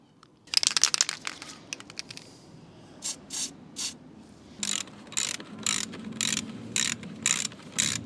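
Ratchet clicks from a wrench tightening the lowering linkage on a Honda Blackbird motorcycle's rear suspension, with a burst of rapid clicking early and then a steady series of separate ratcheting strokes, close and fairly loud with no talk.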